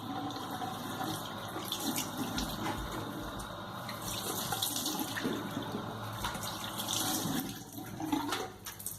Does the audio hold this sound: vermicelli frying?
no